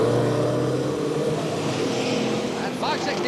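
Saloon stock car engines roar and drone steadily as the cars race round a bend at a 1975 stock car meeting, with a commentator talking over the noise.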